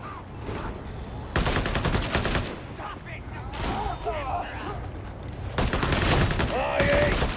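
Autogun fire in Warhammer 40k Darktide, loud sustained automatic bursts in several long strings separated by pauses, with game voices talking between and over the shooting.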